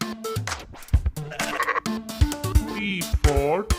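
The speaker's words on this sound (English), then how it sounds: "S for sheep." A sheep bleats in short, wavering calls close up, a few rising and falling cries in a children's alphabet lesson with a voice nearby.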